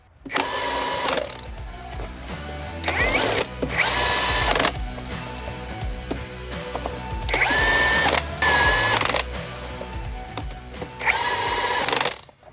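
A torque-limited power wrench tightens wheel nuts on a Scania truck during a brake pad change, giving several loud, close whirring and rattling bursts of a few seconds each, separated by short pauses.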